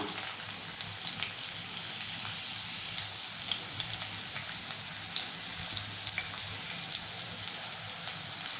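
Finely chopped onion sautéing in hot oil with cumin seeds for a capsicum and potato dish, a steady close sizzle with light crackles and occasional stirring.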